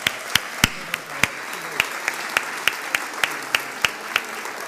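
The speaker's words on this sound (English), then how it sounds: "if we could give them a round of applause." Audience applause at a leadership celebration for artists and scholarship winners, a steady wash of many hands with a few sharper, louder claps standing out near the microphone, continuing evenly throughout.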